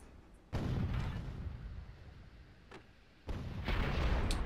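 Gunshots traded between players in a video game match, two sharp loud reports a few seconds apart with echoing decay and a faint snap between them.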